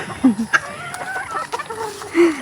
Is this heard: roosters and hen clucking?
yes